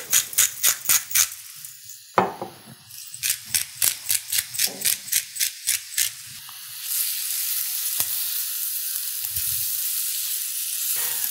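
Onions and bell peppers seasoned with salt and pepper hit a hot pan: after some rhythmic tapping, a broad, even sizzle sets in and holds steadily, close by and with no talking.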